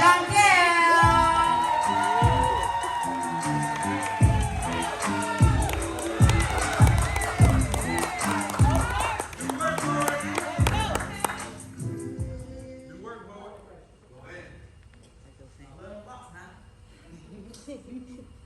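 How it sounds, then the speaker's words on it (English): A crowd at a poetry slam competition claps and cheers loudly for a poet coming to the stage, with whoops and rhythmic pounding over music before the applause tapers off to scattered claps and murmurs, while a host talks. "y'all start clapping for the next poet coming to the stage"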